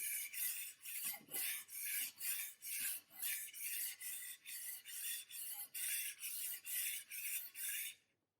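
A blade is stroked back and forth with arm weight along a white RockStar sharpening stone, producing a steady series of about fifteen evenly spaced rasping strokes, close and clear, with no talking.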